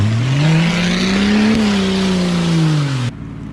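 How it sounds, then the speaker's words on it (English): A car drives past close by, its engine note rising then falling as it goes by, a loud steady roar that cuts off abruptly. "That car is coming, y'all."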